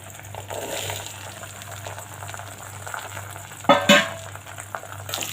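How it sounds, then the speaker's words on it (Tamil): Onions and curry leaves sautéing in a pan for a Chennai-style onion kolambu, a steady low sizzle and hiss with a brief louder crackle and scrape near the end, no talking. "வெங்காயம் நல்லா வதங்கணும்."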